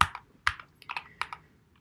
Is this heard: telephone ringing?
no